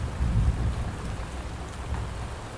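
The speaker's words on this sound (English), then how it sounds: "listen carefully to the soft pattering of the raindrops" Rain patters steadily on a tent at a campsite, a dense hiss of drops with a low rumbling undertone that swells briefly near the start.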